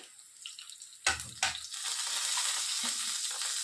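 Coriander seeds dry-roast with cumin in a pan for an Andhra methi chutney, opening with a couple of clattering stirs before settling into a steady, moderate hiss of roasting seeds.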